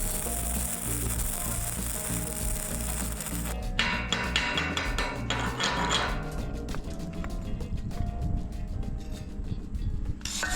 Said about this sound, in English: This is welding the final truss